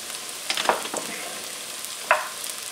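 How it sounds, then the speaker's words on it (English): A small onion sautés in hot oil in a pan, a soft continuous sizzle broken by a few brief stirring scrapes and clicks. "So first we're going to heat a pan with some oil. We'll put in about the small onion. We're going to saute that for a little bit."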